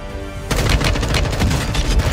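Rapid M4 rifle bursts in Warzone, a loud close automatic fusillade starting abruptly after a brief quiet moment and continuing steadily with dense repeated shots.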